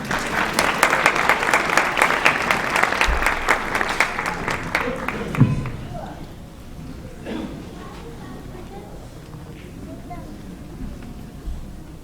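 An audience applauds a cast of young Peanuts characters at a Charlie Brown Christmas show, a loud burst of clapping with crowd noise that fades after about six seconds, leaving quiet room sound with scattered faint noises.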